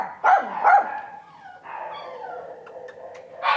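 A small female Maltese mix dog gives two sharp, close barks, followed by softer whimpering yips and a final short bark, heard alone at close range.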